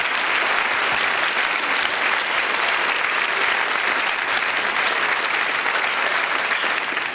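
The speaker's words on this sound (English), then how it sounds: "they all deserve a rich round of applause" A theater audience at the Fitzgerald Theater gives a sustained round of applause for debate candidates, a dense, even roar of many hands clapping that fills the hall without letup.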